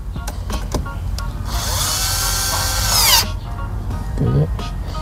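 Power drill or impact driver tightening screws during a DIY cruise control install on a 2022 Toyota Vios XLE CVT, a steady close whirring burst of about two seconds with small clicks and handling noises before and after.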